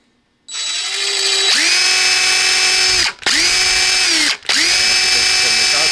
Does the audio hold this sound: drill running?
yes